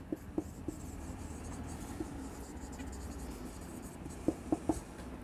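Hand writing on paper while solving an accounts problem: a faint, continuous pen scratch with soft taps at stroke starts, several quick ones clustered near the end.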